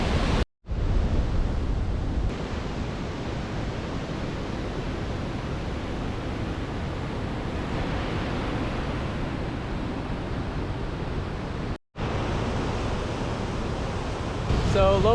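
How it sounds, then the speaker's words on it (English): Lower Myra Falls, a large waterfall, pours in a constant loud roar of broadband rushing water that holds steady throughout, interrupted only by two brief dropouts. "So here we are at Lower Myra Falls, and these falls are pretty impressive."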